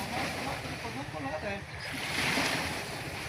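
Sea surf washing at the shore during stormy weather, a steady broadband wash with swelling surges, close and fairly loud alongside wind noise, with people talking faintly over it.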